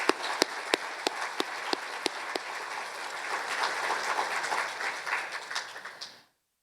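Members at an electric cooperative's annual meeting applaud, starting with a few distinct, separate claps that swell into dense, steady clapping before it cuts off abruptly.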